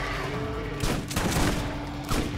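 Gunfire in the video game Borderlands, a dense burst of rapid shots filling the scene loudly for a couple of seconds.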